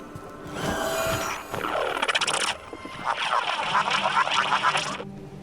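A bird in Destiny 2 gives loud, drawn-out honking calls in several long, sweeping bursts close by, with a quiet hum underneath.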